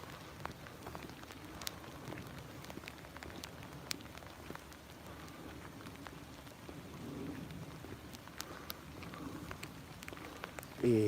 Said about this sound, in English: This rain is coming down hard.